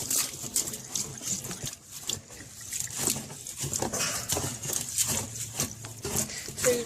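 Rice swished and rinsed with water in a container: continuous wet sloshing, trickling and patter with small splashes, fairly close and moderately quiet, no talking.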